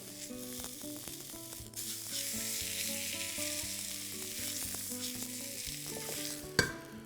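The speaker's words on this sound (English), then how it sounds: "basically just cooking a little natural rim around the steak" A beef steak for carpaccio sears in a hot pan with a dense, crackling sizzle and some clinking and stirring noises, close up, ending in a sharp knock near the end.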